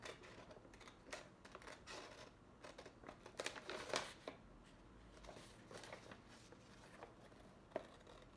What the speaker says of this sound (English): I'm gonna cut out my pattern or my template